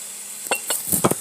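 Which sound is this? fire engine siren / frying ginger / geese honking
frying ginger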